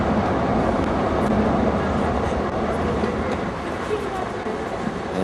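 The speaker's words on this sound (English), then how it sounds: "There goes the train." A train rolling past on a Paris street, a steady broadband rumble filling the whole clip at close range with faint voices mixed in.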